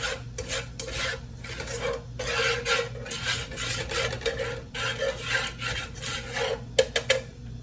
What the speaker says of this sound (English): I'm gonna take my whisk and I'm gonna whisk that butter around in them seasonings